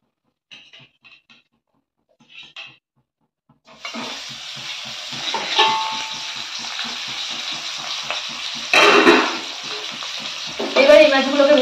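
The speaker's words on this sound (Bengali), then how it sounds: "এরকম ভাবে সব মাছগুলো ভেজে নেব।" Freshly caught Sundarbans creek fish fry in hot oil: after a few faint knocks and a short quiet stretch, a loud, continuous close sizzle starts and swells with brief louder spurts, and no one speaks.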